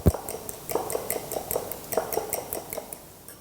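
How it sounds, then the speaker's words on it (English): Eggs beaten with salt, pepper and milk in a bowl make a fast run of light, rhythmic clinking taps from a utensil against the side, close and steady with no talk. "we have to beat the eggs"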